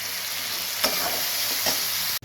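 A ground paste of onion, ginger, garlic and nuts fries with tomatoes in a pan, giving a continuous close sizzle broken by a couple of brief stirring scrapes.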